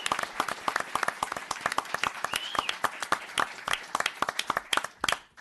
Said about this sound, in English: So if I get a round of applause for Police Officer Vincent Giordano.